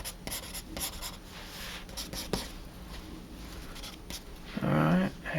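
Pencil drawing a figure on paper, a soft continuous scratching with short stroke bursts, faint and close, with no talk.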